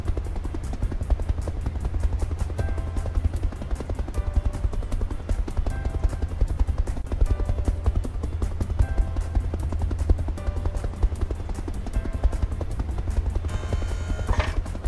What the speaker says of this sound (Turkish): Kargo helikopteri yükseliyor.